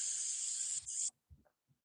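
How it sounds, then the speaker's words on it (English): Black spray paint hisses from a can in a video game, one steady spray lasting about a second, a brief dip, then a short burst before cutting off into quiet. "I'm just like spraying a guy like with black spray paint."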